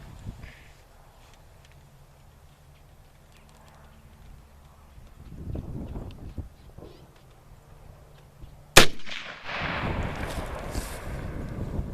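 A single sharp rifle shot from a Lee Enfield SMLE No1 Mk 3 cracks loudly at a shooting range, followed by a rumbling echo and wind buffeting the microphone after a quiet lead-in.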